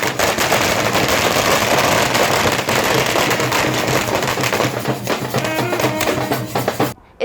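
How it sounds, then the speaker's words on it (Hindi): Fireworks go off at a welcome for Prashant Kishor in Bihar, a dense, loud barrage of crackling bangs that rattles on without pause before cutting off abruptly. "प्रशांत किशोर के पहुंचते ही आतिशबाजी के साथ उनका स्वागत किया गया।"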